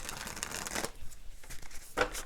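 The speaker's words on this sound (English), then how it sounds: "I'm going to shuffle real quick." Playing cards are shuffled during a tarot reading, giving soft, close riffling bursts of papery crackle, with a brief louder flurry near the end.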